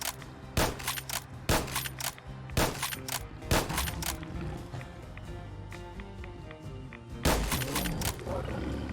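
Sharp, loud Winchester Model 1873 lever-action rifle shots in Fallout 4, fired singly in a steady rhythm with pauses between them, then a later cluster of shots.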